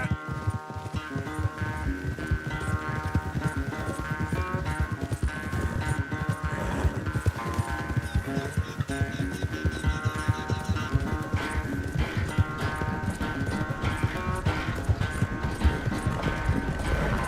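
Hooves clip-clop at a quick steady rhythm through a horse race in Red Dead Redemption 2, close and continuous over a dense layer of game music and ambience.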